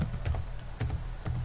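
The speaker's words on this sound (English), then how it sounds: "To link the package, type the following command" Typing a command on a computer keyboard, a few quick clustered key clicks followed by single taps, close and crisp over low background noise, with no voices.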